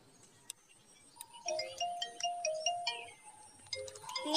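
A custom name-style ringtone playing on a phone, a bright melodic chime sequence of quick tones, fairly faint and heard alone.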